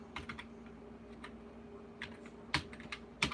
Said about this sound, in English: This keyboard's quite gummy and dirty.